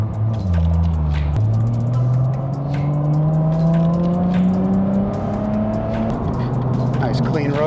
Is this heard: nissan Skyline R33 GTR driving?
yes